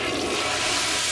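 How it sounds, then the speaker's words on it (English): A toilet flushes in the video game Tacoma, a loud, broad rush of water that fills the whole short moment with no voices over it. "Let's see what the flush sounds like."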